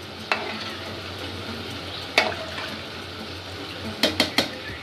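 Soaked lentils are stirred into beef haleem in a pot: a few sharp spoon scrapes and clinks at uneven intervals over a soft, low cooking hiss, heard close by.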